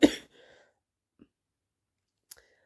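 A person ill with COVID gives a single short, close cough or throat clear, followed by near silence with a couple of faint clicks.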